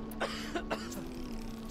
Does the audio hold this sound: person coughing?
yes